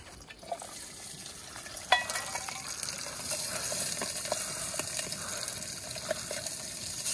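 Food fries softly in a pan in a Hilleberg tent vestibule at an Australian bush campsite, a faint, steady sizzle with a few light clicks and a small clatter near the two-second mark.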